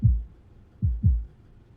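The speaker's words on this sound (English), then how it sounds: "can you hear my heartbeat?" Three heavy, low heartbeat thumps in a slow lub-dub pattern, close and clear, from a Love and Deepspace game scene, with a single beat followed by a quick double beat and no talking.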